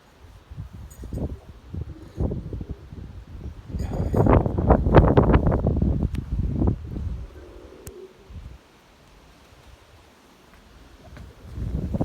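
Strong wind gusts across an open outdoor spot where white pigeons are flown, buffeting the microphone in rough surges that peak mid-way and then ease off, with faint bird sounds in the background.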